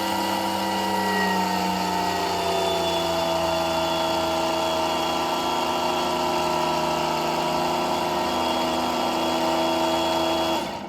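An abandoned junkyard small-tire race car motor runs under power, a loud, continuous droning engine tone with steady harmonics, close and uninterrupted for about eleven seconds.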